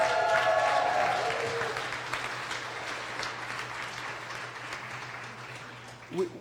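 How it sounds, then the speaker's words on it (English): An audience applauds graduating physicians at the Orange Regional Medical Center 2019 graduation, loud at first and then gradually thinning out as a few claps linger. "give them a round of applause"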